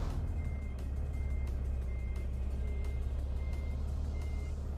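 Steady reversing beeps from a truck being parked in Euro Truck Simulator 2, evenly spaced tones repeating over the constant low rumble of the idling engine, with no talk.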